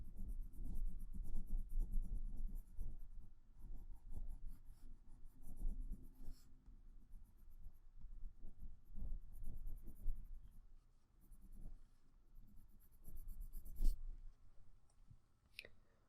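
A white colored pencil shades over paper with soft, close scratching strokes, in short repeated bursts broken by brief clicks and pauses, while adding highlights to a butterfly drawing.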